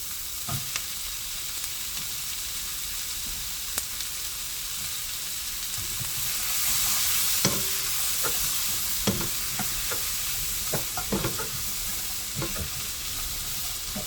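Fish cakes stir-fry in oil over very high heat for a side dish, a loud continuous sizzle with scattered clicks and scrapes of stirring, close and alone.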